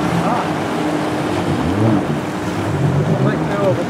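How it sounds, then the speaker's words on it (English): A small jet bike personal watercraft runs on the Delaware River, a steady close engine drone mixed with wind and splashing water, continuous and fairly loud, with faint voices beneath it. "Here comes a little jet bike, dirt bike."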